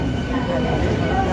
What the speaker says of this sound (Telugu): చూడండి, ట్రైన్ లోకల్ ట్రైన్ వచ్చింది